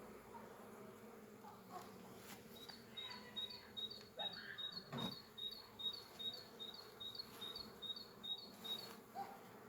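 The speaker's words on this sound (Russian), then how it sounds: "Пчел здесь хорошо, занимают весь ящик, все улья." Honeybees hum around open hives in a Belarus apiary, a steady insect drone with a recurring high buzz rising and falling as bees fly close to the microphone, alone without talk.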